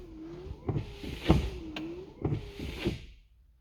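Windshield wiper motor on a Lada Niva running at first speed, a whirring electric motor with the wipers sweeping in a steady repeating cycle, two clear sweeps with clunks at each end, close and fairly quiet.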